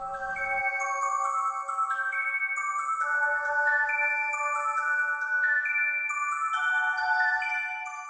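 Bright, chiptune-like melody with bell tones, the Clefairy Dance theme from Mount Moon in Pokémon Generation 2, plays alone, steady and moderately loud, notes stepping in a bouncy, looping pattern.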